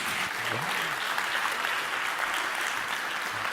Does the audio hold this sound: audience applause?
yes